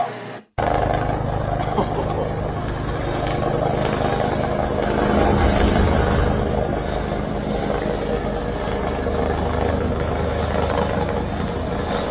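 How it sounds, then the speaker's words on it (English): An army or Garda helicopter passes overhead in Galway, a loud, steady broadband rotor and engine roar with a deep rumble that fills the whole stretch without letup. "I think, actually an army helicopter or a Gardaí helicopter"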